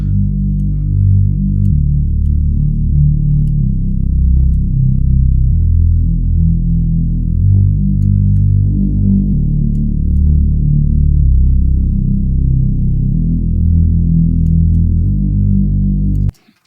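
Synthesized bass drone pad built in Serum 2, a deep, sustained low tone with shifting filter resonance, stepping through slow chord changes, steady and loud throughout and ending abruptly.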